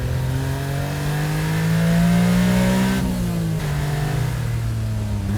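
A Honda Beat kei roadster accelerating hard with its small engine revving, a buzzy rising note that climbs, drops at a gear change, then pulls again, close and prominent without talk.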